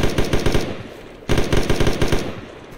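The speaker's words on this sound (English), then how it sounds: "Are you guys shooting?" Machine gun fire during an infantry firefight on deployment, two loud sustained bursts of rapid close shots separated by a brief pause, with no voices.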